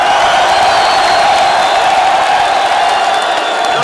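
A large, ever-growing crowd roars and cheers continuously during Moise Katumbi's procession in Grand Katanga, a dense, loud wash of voices with no breaks.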